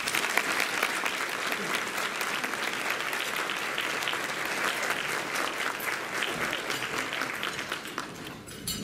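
An audience applauds to welcome keynote speaker Dr. E. Gordon Gee, a dense, steady clapping that holds for several seconds before thinning out at the end.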